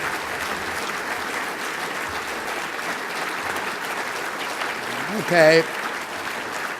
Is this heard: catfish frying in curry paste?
no